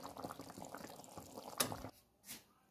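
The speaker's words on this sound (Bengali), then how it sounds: "মাছটা ফুটে গেলে নামিয়ে দেবো।" Kalta fish curry (machher jhol) simmers in a pot with faint, soft bubbling and liquid burbles, then a brief sharper clink before a quieter tail.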